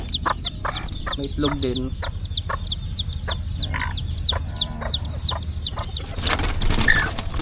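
Chabo bantam chickens cluck in quick repeated bursts close by in a backyard farm pen, and someone talks over them before a louder flurry of cackling near the end.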